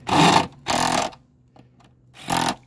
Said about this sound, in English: I don't always trust my impact because I can't feel exactly how good it is tightening